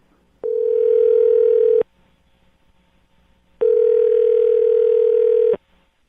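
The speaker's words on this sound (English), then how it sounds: "I'm going to dial her phone number right now" A telephone handset produces a steady dial tone in two long, even bursts with a pause between them, heard clearly on its own before a call connects.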